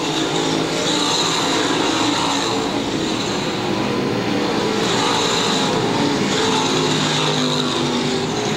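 Race cars lapping Lakeside Speedway during a Friday night race, lapped traffic in the mix, make a steady, loud, continuous roar of engines and tire noise that swells and fades slightly as cars pass, with no talk.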